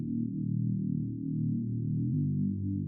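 A music-production bass line soloed with no other instruments, a warm, deep synth bass moving through a few low notes in a continuous, smooth phrase at steady volume.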